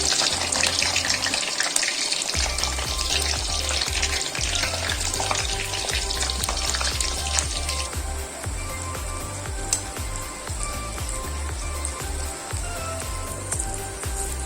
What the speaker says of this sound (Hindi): ब्राउन होने तक हम बैंगन को अच्छी तरह से पकाएंगे।